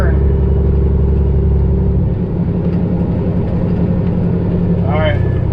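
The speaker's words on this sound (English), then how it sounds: "Downshift whenever I make this turn." A semi truck's engine drops in pitch while the driver floats gears through a turn, the low rumble shifting midway and settling at a steady loud drone inside the cab, with a short sound near the end.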